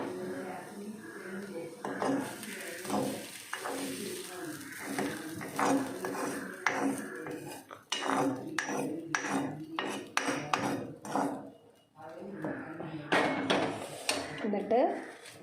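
Fried mustard seeds go into boiled cassava in a pan, with a spoon clinking and scraping against metal in irregular bursts while a voice talks.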